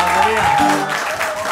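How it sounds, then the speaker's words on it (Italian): An audience claps together at the Moscerino at the start of a musical game, with a voice or tones sounding over the steady applause. "fatemi un applauso, via."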